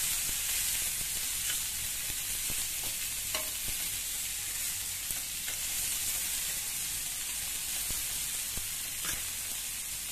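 Sliced bitter gourd sautéing in an oiled pan gives off a bright, even sizzle that carries on steadily, with faint clicks of stirring scattered through it.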